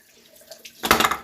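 Hands being washed with soap under a running tap at a sink during a makeup session, a faint rustle followed by a loud sudden burst of splashing water, with no speech.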